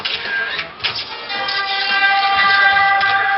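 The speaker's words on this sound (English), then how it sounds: "Oh, do you hear that? Don't you just love the breeze from the subway?" Simulated subway train passing on a Universal Studios Hollywood studio tour, a loud hissing rumble with a screeching, whistling metallic tone that swells and holds.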